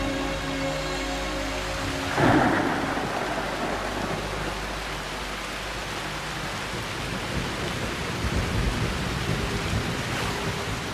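Monsoon rain pours steadily during a thunderstorm in South India, with a rumbling crack of thunder early on and a constant hiss of downpour throughout.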